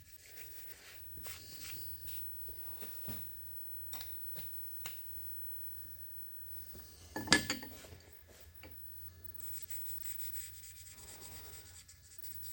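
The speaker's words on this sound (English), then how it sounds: "This is just a rough scrape" Rough hand scraping on a metal milling machine slotting attachment, quiet rhythmic rasping strokes with scattered faint ticks and one sharper metallic scrape.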